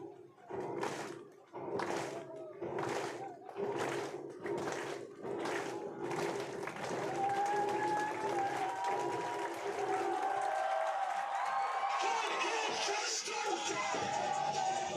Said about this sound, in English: you know, the little drum to clap tradition